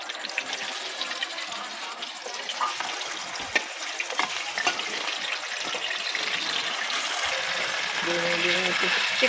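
Raw chicken is washed under a running kitchen tap, a steady close hiss of water with splashing and small knocks that grows a little louder near the end. No one speaks.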